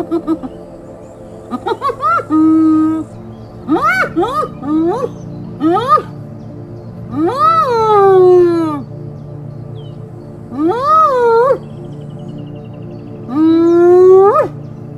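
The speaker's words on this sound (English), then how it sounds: "Spotted hyenas also make a range of sounds, including whooping, noises that they use to call their young." Spotted hyenas give a series of rising whooping calls, each a drawn-out upward-sweeping hoot, repeated about eight times across the stretch with short gaps, loud and close with no talking.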